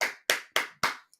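Four sharp, evenly spaced hand claps ring out close and loud with nothing behind them, followed by a faint tap at the end.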